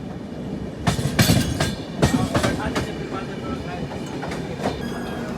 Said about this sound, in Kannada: ನಾವೀಗ ಒಡಿಶಾದ ಖುರ್ದಾ ರೋಡ್ ರೈಲ್ವೆ ಸ್ಟೇಷನ್ ಅಲ್ಲಿ ಇದ್ದೀವಿ